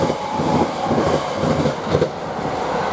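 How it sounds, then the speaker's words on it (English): A Class 321 passenger train passes Romford station close by, a loud, steady broadband rumble of wheels and rolling stock with faint rail clatter, continuous and without speech. "Now here another train, 321,"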